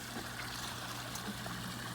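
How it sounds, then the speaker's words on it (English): Water flows into the skimmer box of a koi pond outdoors, a soft, steady trickle and gurgle that stays faint and even the whole time. "So it's right here, the water's flowing in."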